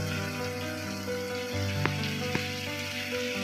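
Onions sauté in a pan with a dense, steady close sizzle, punctuated by two quick clinks of a utensil against the pan, no voices.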